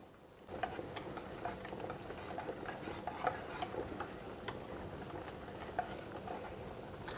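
A spoon stirs mushroom soup with sour cream and giblets in a pot, producing soft scraping and light clinks against the metal and a gentle bubbling, all close and quiet, with no talk.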